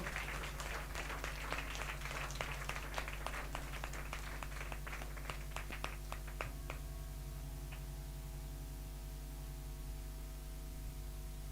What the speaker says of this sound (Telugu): సంతోషంగా ఉన్న వాళ్ళు గట్టిగా చప్పట్లు కొట్టి దేవుని మహిమపరుద్దాం.